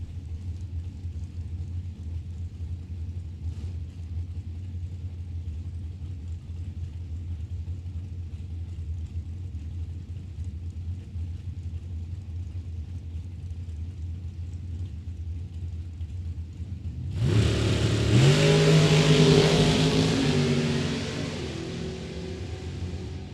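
An Oldsmobile Cutlass drag car at Mid Michigan Motorplex gives a long low idling rumble. Near the end it erupts into a loud, close, roaring launch pull that then fades slightly.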